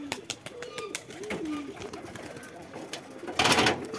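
Pigeons coo in low, rolling phrases during courtship and pairing, with a few soft coos close by over a busy background and a brief burst of rustling noise near the end.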